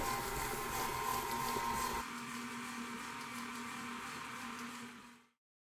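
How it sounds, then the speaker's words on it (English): An electric mixer on low speed works a vegan pork burger mixture, a steady whirring motor hum that drops a little in pitch after two seconds and runs on until it cuts off near the end. "So mix it on low until it kind of all comes together into a nice formed mixture."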